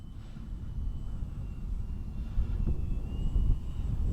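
An H-King Bixler 3 RC plane with no gyro or stabilization flies its maiden flight in windy conditions, a faint electric motor whine drifting at a distance over heavy low wind rumble.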